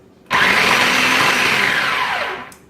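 Food processor blade whirring through cold butter for a savory empanada pie crust, one loud pulse starting abruptly, holding steady for about two seconds, then winding down.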